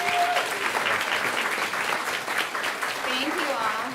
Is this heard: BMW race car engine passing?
no